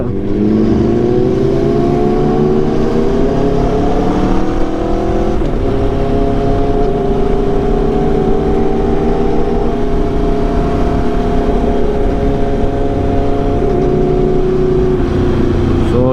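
A vehicle engine pulls hard under acceleration, a loud, close, steady roar with a droning tone that shifts only slightly over the whole stretch.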